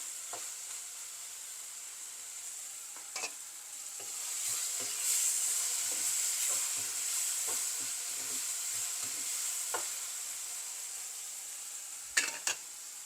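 Chilli powder frying in oil for a curry, a soft steady sizzle with quiet intermittent scrapes and taps of a spoon against the pan, plus a couple of sharper clinks near the end.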